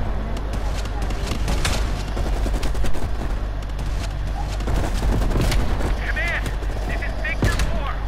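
Gunfire in the Call of Duty Cold War video game, with sharp sniper rifle cracks and surrounding battle shots popping repeatedly over a dense, loud combat din, while voices talk through the scene.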